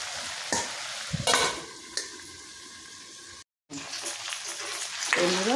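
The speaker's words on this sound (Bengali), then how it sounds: "সুন্দর করে বেশ কিছুক্ষণ নাড়িয়ে নেব যাতে কি লবণটা ভালোভাবে ঢুকে যায় এর মধ্যে" Country chicken with salt being stirred in a pan, scraping strokes with a light sizzle, a few separate bursts of stirring with brief pauses and one short dropout.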